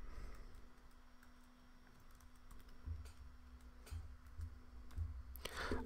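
Commands typed on a computer keyboard, with quiet rapid key clicks in short bursts, close and faint over a low steady hum, with no talk.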